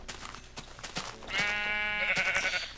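A Minecraft sheep bleating, a sustained wavering bleat that sounds close and fairly loud over faint game noise, preceded by a few short clicks.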